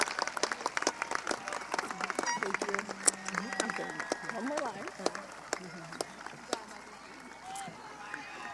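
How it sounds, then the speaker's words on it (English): Families, friends and graduates applaud the teachers at the Randolph High School 2023 graduation ceremony, a broad crowd clapping with voices and cheers mixed in, thinning toward sparse claps at the end. "I ask families, friends, and graduates to give them a round of applause"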